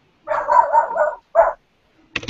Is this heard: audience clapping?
no